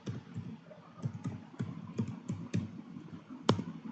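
Quiet clicking of a computer keyboard as an item is typed into an Excel spreadsheet, a dozen or so close, irregular keystrokes ending in one sharper, louder press.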